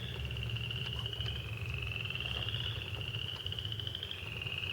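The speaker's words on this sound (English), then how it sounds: "Chorus frogs." Chorus frogs call together in the woods, a dense continuous rasping trill at moderate distance with no voices.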